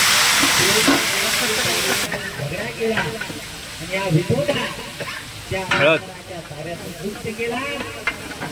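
Chillies and peanuts fry in oil in a kadhai while pilgrims' food is cooked during the Pandharpur palkhi procession. A hissing sizzle starts loud and settles, with stirring scrapes, and someone talks over the cooking throughout.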